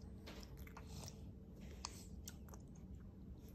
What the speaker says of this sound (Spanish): Ay, le está costando trabajo comer.